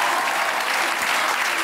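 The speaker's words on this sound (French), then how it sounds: "Une ovation." Dense, steady applause from a graduation audience at the Institut Saint-André, a continuous ovation of many hands clapping close by with no talking over it.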